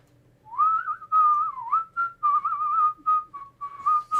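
A person whistles a wavering, melodic tune alone, with several sustained and rising notes broken by short pauses, close and clear against a quiet background.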